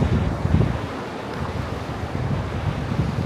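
Strong sea waves surging and washing along the shore at Broadstairs, Kent, a dense rushing roar with wind buffeting the microphone, close and continuous.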